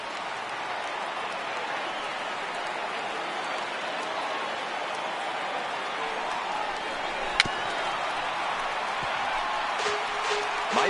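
A stadium crowd of over 36,000 applauds and cheers in the baseball video game MLB The Show 18 during Arizona at the New York Mets, a steady, even roar of clapping and noise sustained throughout with no let-up.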